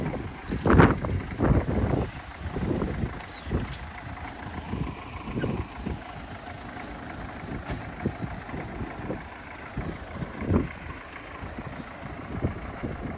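Gusty wind rumbles against the microphone in uneven low bursts, rising and falling over a constant background hiss.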